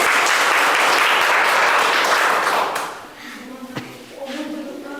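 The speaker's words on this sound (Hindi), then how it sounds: "एकदम मन से जोरदार ताली बजाओ" Loud, dense applause from a class of students fills the first three seconds, then quickly fades to scattered claps and light chatter.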